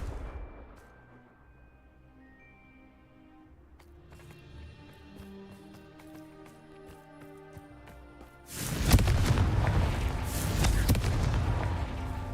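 A Confringo fire spell bursts in the Hogwarts Legacy video game: a quiet stretch of faint effects and tones gives way to a sudden loud, crackling blast that roars on for several seconds.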